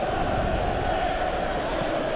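Stadium crowd roaring in the PES 2017 football game, a steady broad wash of cheering that holds at even volume throughout.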